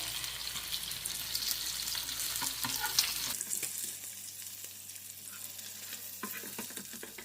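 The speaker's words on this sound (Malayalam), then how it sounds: "നമ്മുടെ മീൻ ഫ്രൈ ആയിട്ടുണ്ട്." Fish fries in oil in a pan, giving a steady close crackling sizzle that drops to a quieter, thinner hiss partway through.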